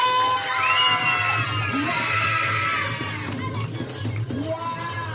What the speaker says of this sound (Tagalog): Parinig naman ako na malakas sa palakpakan na may kasamang sigaw!